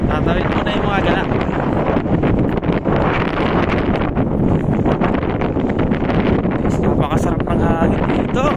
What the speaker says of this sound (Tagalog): Napakasarap ng hangin dito.